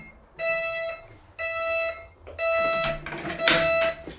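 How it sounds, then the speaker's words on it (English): A building door alarm at the Northumberland Telescope sounds in repeated electronic tonal beeps, three steady half-second bursts with short gaps, followed by a longer, rougher burst with added noise. "And the alarm will go off when we close the door."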